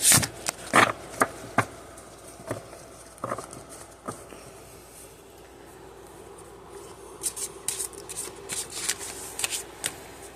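A deck of oracle cards is shuffled close by. Sharp riffles and taps come first, then a quieter stretch, then busier bursts of card rustling and snapping toward the end.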